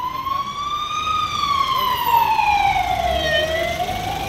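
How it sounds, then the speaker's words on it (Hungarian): An ambulance or police siren wails on a busy city road, a loud rising and falling tone passing nearby over traffic rumble. "szinte minden 10. percben elmegy egy mentő vagy egy rendőrautó"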